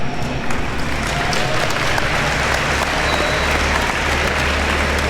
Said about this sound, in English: A quick Cranbrook applause for the two Niedermayer brothers, Stanley Cup champions